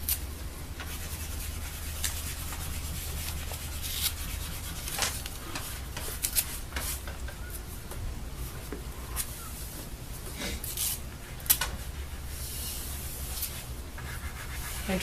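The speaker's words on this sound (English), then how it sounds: "And you can tear a lot of patches at once" Newspaper strips are torn by hand for papier-mache, several held together, giving a steady run of rough papery ripping and rubbing with scattered sharper tears.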